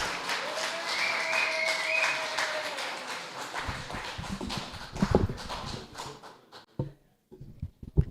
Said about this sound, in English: Ladies and gentlemen, give a round of applause for the stunning and magnificent Marcella Johnson.